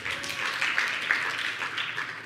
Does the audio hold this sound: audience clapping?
yes